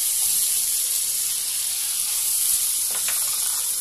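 Tomatoes and garam masala fry in a hot pan for masala pulao, giving a loud, steady close sizzle with faint stirring scrapes partway through and no talking.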